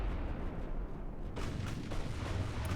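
Warship guns firing in the naval battle game Ultimate Admiral: Dreadnought, a heavy rumbling boom that rolls through a dense, continuous battle din with no talking.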